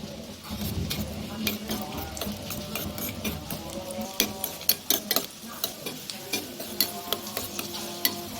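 Cashews and raisins frying in hot ghee for a payasam tempering, a steady low sizzle with sharp stirring clicks and taps against the pan that grow more frequent toward the end.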